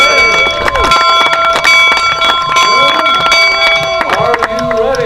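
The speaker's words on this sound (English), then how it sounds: "And in Philadelphia, the Liberty Bell will ring again." Bells ring loudly and repeatedly in celebration at a Golden Spike anniversary event, bright sustained clanging tones overlapping one another with continuous ringing throughout.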